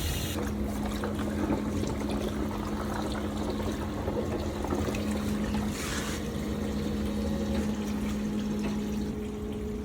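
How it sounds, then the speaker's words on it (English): A small pump runs fully submerged in a bucket of water while descaling a Noritz residential tankless water heater, giving a steady, loud, unbroken churning hum with a constant low drone. "Fill the bucket up with water until the pump is fully submerged."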